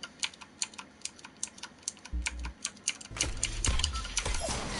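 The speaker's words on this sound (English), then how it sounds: "I love the sound of this keyboard." Close, steady keystrokes clatter on a computer keyboard, a rapid run of individual clicks that thickens into denser typing toward the end, with a low thump partway through.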